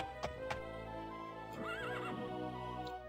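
A horse in the game Daggerfall whinnies with a rising, wavering call midway, while a few sharp hoof clip-clops sound early on, all over a steady game backdrop with no talk.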